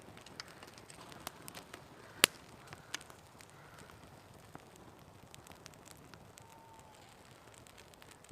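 A small campfire of dry wood in a damp woodland camp crackles with sparse, faint pops and snaps, quiet and irregular against a hushed outdoor background.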